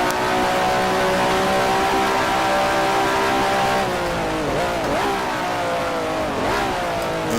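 A Cooper race car engine at three-quarter throttle in Grand Prix Legends, set on the 1967 Monza circuit, drones loud and steady with strong harmonics, then dips twice in pitch as the revs drop on the exit of a corner.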